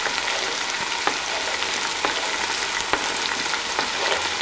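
Small onions sizzle vigorously in a pan with pork loin, a dense continuous frying hiss broken by a few sharp spits and stirring clicks.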